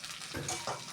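Potato and aubergine pieces with slit green chillies fry in a pan while being stirred, giving a faint, continuous sizzle with brief scraping swells.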